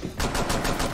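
Rapid automatic gunfire in the tactical shooter Rainbow Six Siege, a burst of about six close, loud shots in a fast even rhythm after a brief quiet start.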